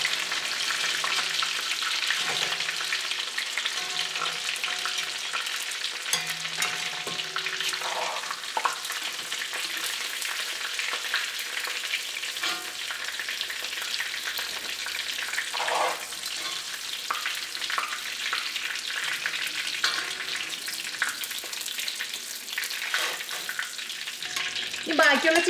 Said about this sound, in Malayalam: ഈ ചിക്കൻ എടുത്ത് നമുക്ക് എണ്ണയിൽ മാറ്റാം.